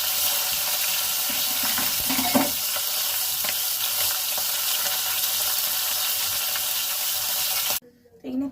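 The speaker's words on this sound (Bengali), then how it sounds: "এখানে তেল গরম হয়ে গেছে" Hot oil sizzles steadily in a pan on a home stove, a dense continuous crackle with a faint clink near the middle, before the sizzle abruptly cuts off near the end.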